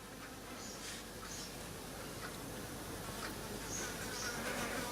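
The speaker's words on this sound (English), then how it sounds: "Listen to those bloody flies." Flies buzzing steadily around an old Emmco watthour meter under test, a faint, continuous drone with occasional passes drifting nearer and farther, with no talking.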